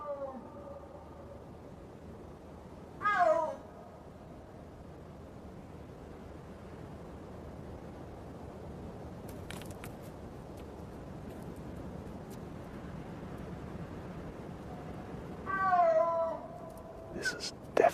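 Two big cats call to each other while courting in mountainous forest, with two loud, drawn-out yowling meows spaced well apart over a quiet, windy background.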